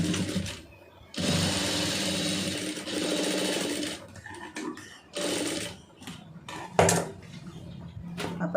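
A sewing machine stitches a marriage blouse in several bursts of rapid, steady mechanical whirring, separated by short pauses, with small clicks and handling noises between runs.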